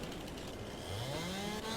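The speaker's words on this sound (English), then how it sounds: "So I'm going to go in with my chainsaw here," Chainsaw in the Farming Simulator 22 video game cutting into a tree, a steady mechanical engine drone with a rising pitch sweep as the cut begins, heard alone and close.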